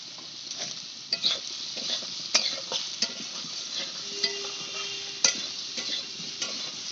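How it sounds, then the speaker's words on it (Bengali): Boiled spinach sautéed in a pan with salt and turmeric makes a continuous frying hiss, broken up by frequent scraping and clattering stirs of a spoon against the pan. "নুন হলুদ দিয়ে ভালো করে একটু কষিয়ে নিলাম"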